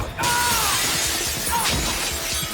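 A large plate glass window shatters as someone is thrown through it in a film scene, one loud burst of breaking glass followed by scattering shards and a dense crash over about two seconds.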